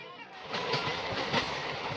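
An Asansol–Varanasi MEMU local passenger train runs with a steady rumble and rhythmic rail clatter, close and fairly loud, while people talk in the background.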